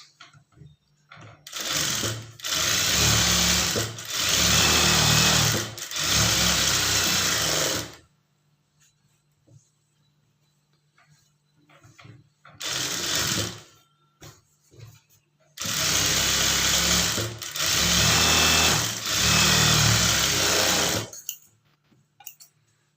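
A sewing machine top-stitches a blouse cloth in four loud, steady runs of rapid mechanical chatter, each several seconds long, split by quiet pauses with soft handling noises.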